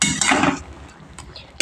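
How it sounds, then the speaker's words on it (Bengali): Spinach being stirred in a pan during cooking, with a few sharp utensil scrapes and clatters against the pan near the start and end and quieter scraping in between. "এবার আমি ভালো করে অনেকক্ষণ ধরে নেড়ে নিচ্ছি।"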